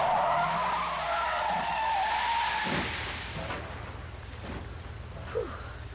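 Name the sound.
car skidding and crashing in video game Deadly Premonition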